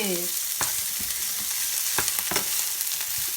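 Hotdogs stir-fried slowly over low heat in a pan, giving a steady soft sizzle broken by a few scattered scraping stir strokes, close and alone with no voices.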